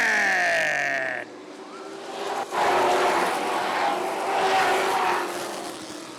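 Sportsman race cars at Rockford Speedway accelerating on a green flag restart, engines whining and rising in pitch, then a broad roar of the pack building and swelling, loud and close.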